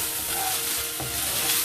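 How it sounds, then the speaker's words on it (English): Onions, crushed garlic and green chili sizzle steadily in hot oil in a pan, a close, continuous frying hiss with soft stirring scrapes and no talking. "Fry the onions till they are tender. Now add in the crushed garlic and green chili."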